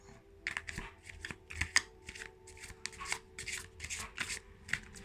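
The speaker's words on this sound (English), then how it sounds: "I'm going to give them a shuffle." A deck of playing cards being shuffled close by, a run of quick riffling bursts and soft slaps repeating steadily with a low background hum, no voices.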